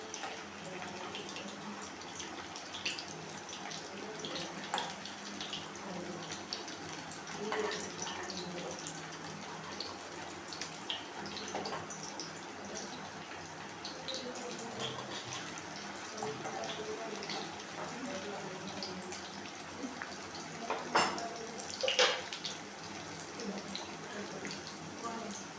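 Hot oil sizzles constantly around fish kebabs as they fry, a soft hissing bed with occasional pops and a brief louder crackle, heard close with some speech over it.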